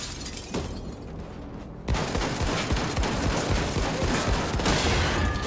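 Rapid shotgun fire in the first-person shooter Wolfenstein II: The New Colossus, loud close blasts starting after a short quieter lead-in, then dense overlapping booming shots and gunfire continuing to the end.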